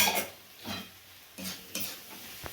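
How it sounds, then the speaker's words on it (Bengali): Masala with garlic paste frying for a bhetki fish-bone chorchori: short bursts of spatula scraping against the pan over a faint sizzle, separated by quieter gaps. "মশলাটা ভালো করে কষে নেওয়া হচ্ছে আর রসুনের পেস্ট একটু দেওয়া হচ্ছে"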